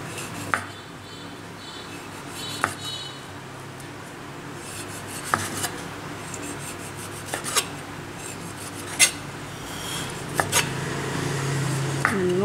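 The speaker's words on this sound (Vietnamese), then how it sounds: "chanh mình gọt sâu sâu đi, mình sợ mình gọt cạn quá là nó dính cái da ở ngoài á cả nhà" A knife peels a lime deeply, cutting well under the rind, for a sweet-and-sour fish dipping sauce. Soft, continuous rasping scrapes are broken by occasional sharp clicks of the blade against a hard surface nearby.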